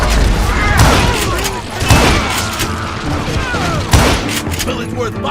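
Gunfire in a Call of Juarez Gunslinger shootout against a crowd of deputized shooters: loud booming shots and crashes keep coming over dense game noise, with heavier blasts near two and four seconds.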